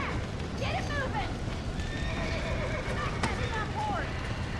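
Horses in the Western video game Red Dead Redemption whinny and neigh repeatedly with rapid clip-clop of hooves over a busy, noisy game background.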